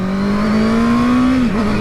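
A 2021 Honda CB650R motorcycle being ridden, its engine holding a loud, smooth, steady drone that rises gently in pitch, then dips briefly near the end.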